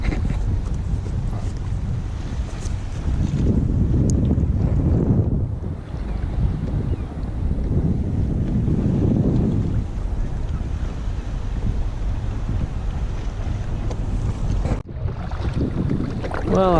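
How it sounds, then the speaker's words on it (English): Strong wind buffets the microphone under sea cliffs on a kayak bass fishing trip, a loud continuous low roar that surges in gusts and eases briefly near the end. "It's a bit windy still today"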